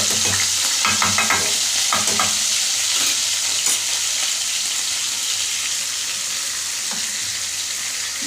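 Strained, soaked cumin seeds fry in a pan, producing a steady, close hiss of sizzling oil with a few stirring scrapes near the start and no talking.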